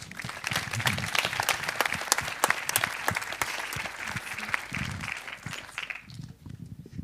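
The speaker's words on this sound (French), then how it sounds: "je pense qu'on peut les applaudir" Applause from an audience at a French talk on young people and space, a dense, steady clatter of many hands clapping at close range that thins and fades out near the end.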